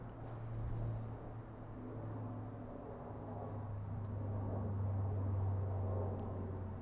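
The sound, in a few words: passing car traffic noise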